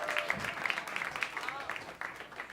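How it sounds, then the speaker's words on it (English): Concert audience applauds a music group, soft scattered clapping in the background while a voice talks over it. "about another nice round of applause for this great group?"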